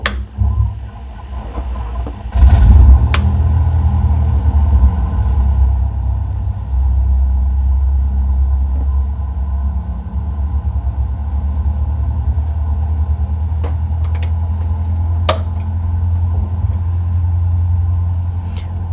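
A small propeller aircraft engine starts up in Microsoft Flight Simulator, cranking and catching before settling into a steady, loud low rumble with a few sharp clicks along the way.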